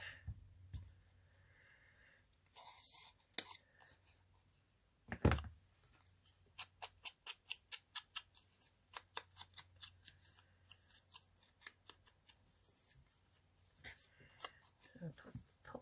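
Scissors fussy-cutting paper card strips, with a rapid run of close, crisp snips in steady rhythm broken by paper rustling and handling, a few louder clunks, and a voice talking at points.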